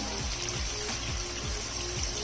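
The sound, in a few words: water poured from marinade bowl into chicken pan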